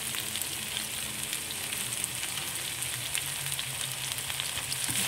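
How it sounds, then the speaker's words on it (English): Sizzling stir-fry of French beans, cabbage and shredded carrot for bee hoon goreng, a steady dense frying hiss with faint stirring scrapes throughout, close and without talk. "Now I'm going to throw in the vegetables. So I'm adding in French beans and cabbage, and I've shredded some carrots as well."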